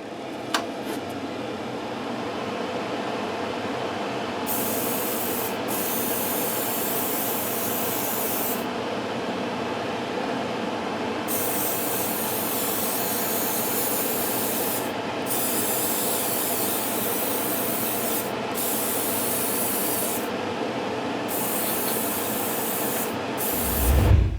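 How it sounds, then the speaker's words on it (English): An extractor fan runs steadily throughout, a continuous broadband whoosh mixed with bursts of spray from an airbrush or spray can as paint goes onto a 3D-printed Star Wars Y-Wing model, the spray cutting in and out. "So I'm going to hit the extractors and get the next coat on."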